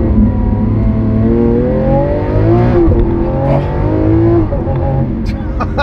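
Lamborghini Aventador S V12 engine revving loudly up and down in rising and falling sweeps, close by, with a voice talking over it.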